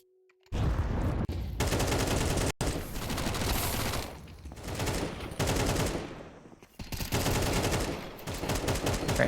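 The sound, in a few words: gunfire in Counter-Strike video game match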